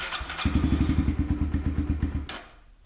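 A motorcycle engine cranks and briefly runs with a rapid, loud chugging pulse lasting about two seconds before cutting off, following a battery-tender charge for winter storage.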